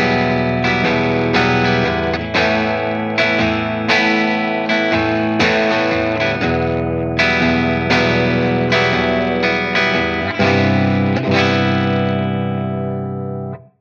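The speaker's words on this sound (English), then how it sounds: "Just going to play some chords just to give you an idea of how it sounds." Chords strummed on a Blackstar Carry On travel guitar with a clean tone ring out one after another in a steady rhythm, each strum bright and sustained, close and loud with no talking.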